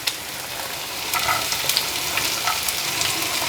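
Vegetables sizzle and crackle in a hot pan over a high flame while fried rice is being cooked, a steady close frying hiss with light stirring clicks throughout.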